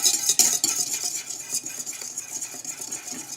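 Whisk or spoon stirring pastry cream mix into cold milk in a bowl, a quick, soft scraping and clinking rhythm, close and fairly quiet.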